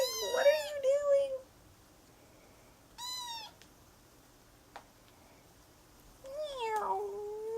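A cat meows several times close up, long drawn-out and insistent, with short pauses of quiet between the calls.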